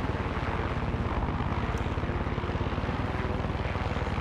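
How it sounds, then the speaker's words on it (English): A helicopter in the video game Far Cry 6 flies with a steady, loud rotor chop and a constant engine drone, close and continuous throughout with no talking. "Easiest helicopter to fly ever."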